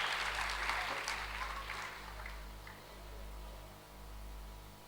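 Audience applause at a humour club anniversary celebration, a dense wash of clapping that fades slightly over a few seconds above a steady low electrical hum.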